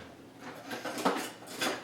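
A potato masher is pulled from a kitchen drawer while making vegan mashed potatoes, giving a few soft metallic clinks and rattles of utensils shifting, close and quiet, with no talking.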